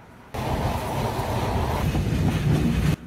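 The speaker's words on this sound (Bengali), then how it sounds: "বিকট শব্দে আর দুর্বার গতিতে ছুটছে আমাদের ট্রেন" The Sundarban Express thunders over the Padma Bridge, a loud, unbroken rumble and rattle of wheels on rails that starts abruptly and holds steady before cutting off, with no talk.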